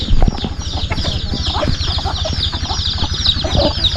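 Village chickens in a highland hill settlement cluck steadily nearby, a busy mix of hen calls and rhythmic low clucks with high chirps over a constant outdoor background.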